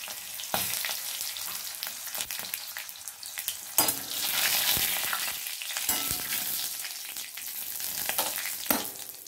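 A slit green chili and nigella seeds fry in hot oil, a bright crackling sizzle broken by sharp clinks and scrapes of stirring in the pan, with no talking.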